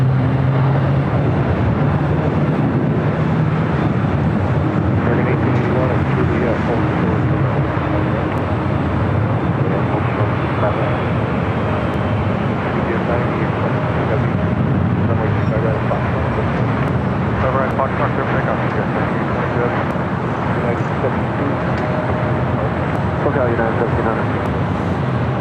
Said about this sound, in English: Flight 1700 now taking off.